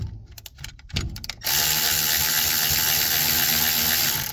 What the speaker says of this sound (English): get my socket on the other one with the caliper in place